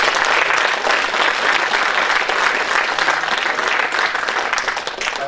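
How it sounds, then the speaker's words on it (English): A large audience at a hackathon showcase applauds the presenters, dense sustained clapping that stays loud and even for several seconds before easing slightly near the end. "please give a round of applause for everyone who presented"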